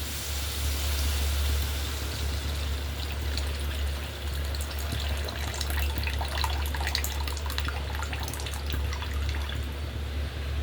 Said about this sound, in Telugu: మగ్గు వేసాను, కొంచెం వాటర్ వేస్తానండి.